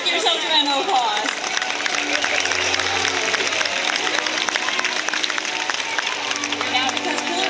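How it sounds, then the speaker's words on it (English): Crowd applause at a killer whale show at SeaWorld San Diego, sustained clapping mixed with cheering and crowd chatter, lively and fairly loud throughout. "Give yourselves a round of applause."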